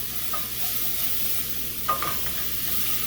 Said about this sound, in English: I'm stirring very vigorously